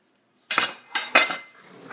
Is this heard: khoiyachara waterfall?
no